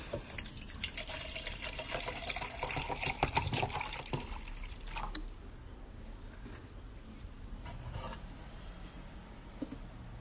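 Water trickles and splashes into a container in uneven pours while 300 grams are measured for making African black soap, with small drips and clinks, close and fairly quiet.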